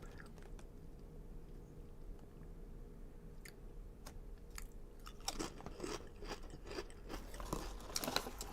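Crunchy chewing of plantain chips from a Japanese convenience store in Osaka, faint and steady at first, then louder, close crunches and bites building toward the end.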